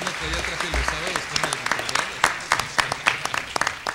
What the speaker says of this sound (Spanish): le brindamos un aplauso